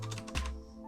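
Keystrokes on a computer keyboard as DOS commands are entered, a quick cluster of close taps with one heavier key press, then quieter trailing clicks over a steady low hum.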